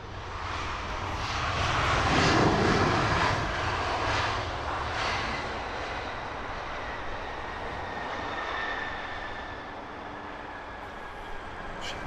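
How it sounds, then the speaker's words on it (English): Etihad Airbus A380 on its takeoff roll at Heathrow Airport, a distant, steady jet engine roar that swells and then holds, heard alone at night with no talk. "Etihad A380 lined up, rolling now."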